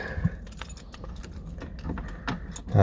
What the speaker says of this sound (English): Key in the ignition.